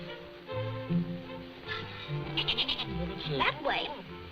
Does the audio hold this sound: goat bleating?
yes